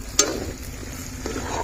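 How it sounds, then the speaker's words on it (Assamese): Onions frying in a pan during home cooking for a birthday party, a short steady sizzle with a brief stir or clatter near the start. "পিঁয়াজ ভাজি আছে"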